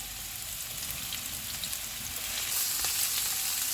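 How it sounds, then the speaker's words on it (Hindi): Chopped onion, garlic and ginger sizzling and crackling steadily in hot oil in a pan, a continuous close frying hiss that grows slightly louder toward the end. "ऑयल गर्म हो गया, इसमें प्याज डालेंगे, लहसुन और अदरक डालेंगे।"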